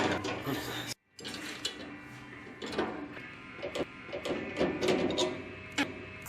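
Mower frame and deck of a TREX slope mower being bolted together with nuts and bolts, giving repeated metallic ratcheting and clanking hits close by over a steady workshop background, with a brief pause near the start.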